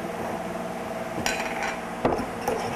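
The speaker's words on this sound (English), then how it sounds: "So let's open our cans up." Metal cans of wood stain being pried open, a few sharp clinks and pops of lids against a steady background hiss, close and moderately loud.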